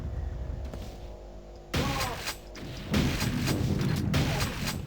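Enemy gunfire in the Quake 2 shooter game: loud, booming shots and blasts arrive in a cluster after a quieter opening, layered over rumbling game noise with no voices.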